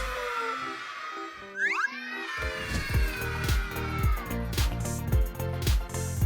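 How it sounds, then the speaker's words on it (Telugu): A cartoon cat meows several times in quick succession, loud and close, over busy background music and sound effects. "నా పిల్లి, నా పిల్లి, మిటి."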